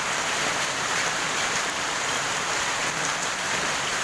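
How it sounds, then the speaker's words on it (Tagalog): Heavy rain pours steadily during a typhoon, a loud, unbroken wash of drops drumming on surfaces with no pauses and no voices. "Sobrang lakas ang ulan."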